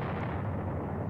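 Heavy 7.5 cm guns fire at tanks in the Panzer Battles Kursk wargame, giving a dense, continuous low rumble of artillery that fills the whole moment without pause, loud and booming, with no voices.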